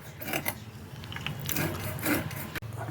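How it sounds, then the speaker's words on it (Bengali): A small tarui fish being cut and scaled by hand, a close run of rapid rasping scrapes and rubbing strokes with a sharp click near the end. "মাছটা কেটে নিচ্ছি, গুঁড়ো গুঁড়ো আঁশ, একদম খুব ছোট ছোট আঁশগুলো, কিন্তু অনেক আঁশ আছে, ভালো করে ছাড়াতে হবে।"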